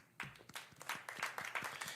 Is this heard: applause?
yes